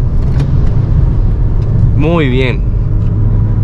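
A car with an automatic transmission drives on a road, braking into a curve and downshifting to second gear. A loud, steady engine and road rumble fills the clip while someone speaks briefly.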